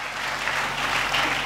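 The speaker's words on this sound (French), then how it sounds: "Est-ce qu'on peut acclamer très fort?" A church congregation applauding loudly during a sermon, a dense, steady wash of clapping that fills the whole moment.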